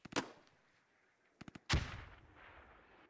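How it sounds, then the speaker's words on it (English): A smoke grenade pops in the military shooter Squad: sharp distant reports, then a burst of three quick pops and a louder thump that trails into a hissing rush of smoke. "Little smoke grenade popping out."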